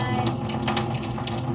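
Water runs steadily from an outdoor tap, making a continuous, fairly loud splashing rush with faint mechanical clicking beneath it and no one talking.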